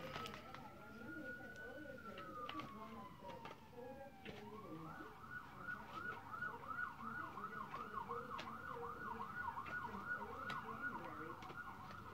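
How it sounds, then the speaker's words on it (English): Distant sirens wail faintly, one sweeping tone giving way to a rapid warbling yelp, under steady low background noise. "I hear sirens already."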